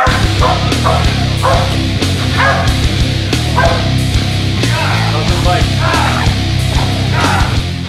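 A police dog barks steadily during a SWAT deployment, with rapid, loud, repeated barks and yips over dense, noisy background commotion.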